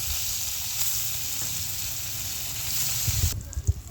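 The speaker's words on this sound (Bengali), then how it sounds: "ভেজে নেবো রসুনগুলো" Garlic and fish frying in soybean oil in a pan on a gas stove, a soft continuous sizzle with a few light stirring knocks near the end.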